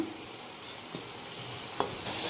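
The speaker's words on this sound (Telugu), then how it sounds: "ఇప్పుడు పచ్చి మామిడికాయ ముక్కలు వేస్తున్నాను" Raw mango pieces go into a simmering eggplant and prawn curry in a pan, giving a soft, steady sizzle with a couple of faint clinks from the spoon, no talking.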